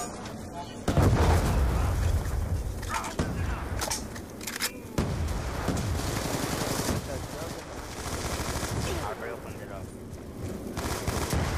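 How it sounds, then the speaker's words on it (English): Gunfire from a zombie video game: dense bursts of machine-gun and rifle shots crack repeatedly for most of the stretch, loud and close, with heavy booming impacts and a voice talking underneath. "Shots have been fired."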